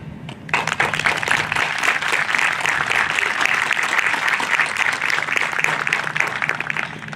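Audience at a high school graduation breaks into sustained applause after a brief quieter moment, loud, dense clapping continuing to the end.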